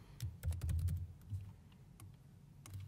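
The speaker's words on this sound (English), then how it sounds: "I'm going to type my title form" Quiet, close typing on a computer keyboard: quick irregular clusters of soft key clicks with short pauses, no talking.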